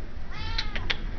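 Cats meowing at an animal shelter, a couple of short close meows over a steady background hum.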